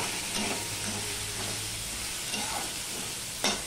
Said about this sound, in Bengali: এবার ভালো করে পেঁয়াজের সাথে আলুটা আমি ভালো করে ভেজে নেব